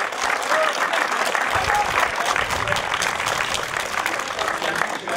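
An outdoor crowd applauding the podium finishers at a 2022 Turckheim-Trois Epis hill climb, sustained dense clapping with faint voices mixed in.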